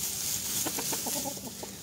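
Bantam hens inside a henhouse give a short run of rhythmic, close clucks over a steady background hiss, with no talking.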